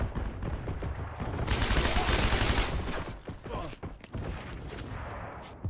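An MP40 submachine gun fires in Heroes & Generals, a dense, loud burst of rapid automatic shots lasting over a second, followed by scattered single cracks and clatter, with faint voices at times.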